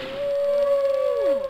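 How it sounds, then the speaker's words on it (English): A whale call from an ocean animals learning game, one long tonal moan that holds steady and then slides down in pitch at the end, loud and clear with no talk. "Whale."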